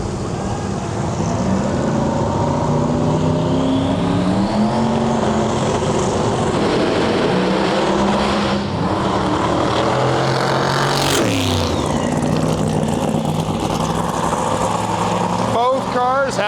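Pro Mod drag racing cars roar down the strip at the Snowbird Outlaw Nationals, loud engine notes sweeping up and down in pitch for most of the stretch while an announcer talks over them.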